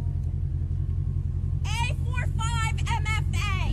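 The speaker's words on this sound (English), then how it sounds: "All because my car is loud." A loud car engine rumbles steadily and close by throughout, its low drone continuing underneath when a person starts talking partway through.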